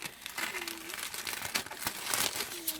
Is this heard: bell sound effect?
no